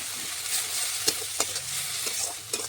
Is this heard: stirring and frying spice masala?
yes